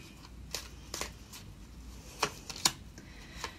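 Tarot cards being shuffled and handled, a series of quiet, sharp riffles and taps spaced irregularly over a hushed background, with no talking.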